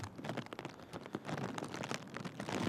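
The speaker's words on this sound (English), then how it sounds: "the wind's picking up, the rain's picking up" Heavy rain and gusting wind during a storm at an airport, a dense, steady roar of drops and rushing air that holds loud and continuous throughout with no voices.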